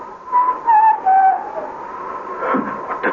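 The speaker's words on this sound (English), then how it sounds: "And then, the sound of whistling. Faint, but recognizable." Faint whistling on a deserted railway platform in an audio drama, a thin wavering tune of a few short notes heard alone, with a soft rustle near the end.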